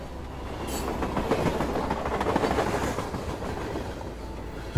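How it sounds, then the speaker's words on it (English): A train rumbles steadily along the tracks, with rhythmic clacking of wheels over rail joints beneath a constant low roar. "As the train slows down more, people wave at you from outside"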